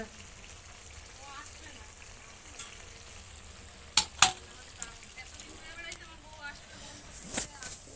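Brinjal slices frying in a pan on a home stove, a steady soft sizzle and hiss throughout with a few sharp spatters and clinks near the middle, fairly close and moderately quiet, with no talking.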